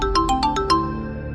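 A mobile phone ringtone plays a quick series of six bright electronic tones, loud and close, then fades out with no talk.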